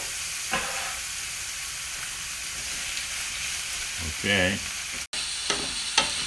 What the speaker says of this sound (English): First, we're gonna be sauteing the onion and garlic until they get caramelized.